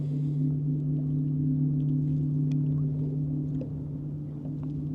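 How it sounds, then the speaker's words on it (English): A boat engine running rough drones steadily with a low, uneven hum, heard from a distance with no talking. "That boat don't sound right going up through"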